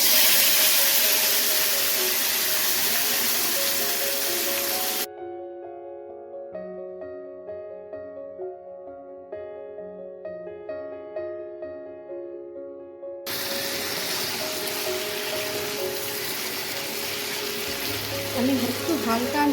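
Marinated mutton goes into hot spiced oil and fries with a steady, close sizzle. Midway the sizzle gives way to a stretch of tonal music, then the frying returns just as strongly.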